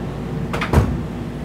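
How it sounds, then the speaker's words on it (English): A dishwasher drawer opening in a luxury Luxe Elite 39FB fifth-wheel trailer, one brief soft slide and thud at close range against a quiet background. "This is the drawer for your dishwasher option."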